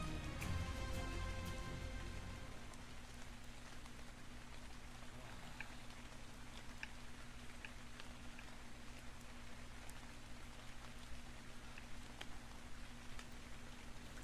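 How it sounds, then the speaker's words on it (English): Rain in the video game ARK: Survival Evolved Scorched Earth: a soft, constant hiss of falling rain with a low steady hum underneath and a few faint ticks, with no talking. "Is it raining? I didn't know there was such thing as rain in here."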